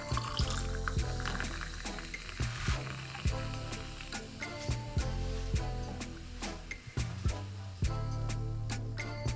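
Soda water is poured over ice in a glass for a mojito mocktail, a continuous fizzing, splashing pour heard beneath steady background music.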